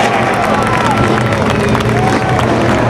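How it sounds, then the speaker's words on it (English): A large crowd in Columbus, Ohio cheers and applauds for Bruce Holmes. The dense, loud roar of clapping and shouting runs steadily throughout with no letup. "How about a round of applause from Columbus,"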